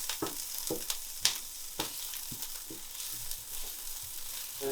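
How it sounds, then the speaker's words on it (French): Onions fry in a pan, a steady close sizzle with occasional soft stirring scrapes and light taps, no voices. "mes oignons commencent un petit peu à prendre de la couleur"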